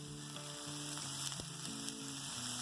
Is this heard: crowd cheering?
no